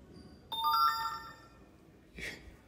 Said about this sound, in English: You've heard the notification sound.